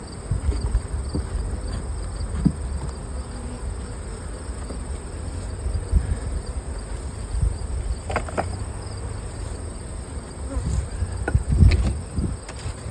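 A steady, dense buzz of many honey bees around a hive close by, continuous throughout, with occasional louder passes of individual bees near the listener.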